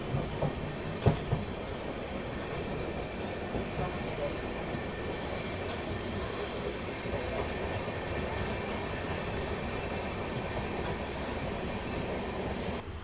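The 12351 Howrah–Rajendranagar superfast express runs after leaving Durgapur station, a steady interior rumble with rhythmic clickety-clack of wheels over rail joints, a few sharp knocks early on and faint squeals over the continuous roar.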